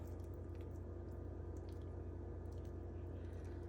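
Melted butter poured over pickle beer bread batter in a baking dish makes a soft, continuous wet squishing and dripping, faint and close, with no talking.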